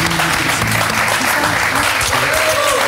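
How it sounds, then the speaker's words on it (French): Audience applause for a poker player at a televised poker table, a dense, steady clatter of clapping filling the room for three seconds, with faint voices murmuring underneath. "Bravo, on peut applaudir Romain."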